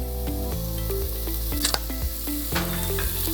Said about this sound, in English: I'm going to stir this around really well, just to lightly caramelize this.